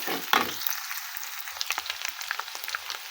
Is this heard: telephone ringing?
no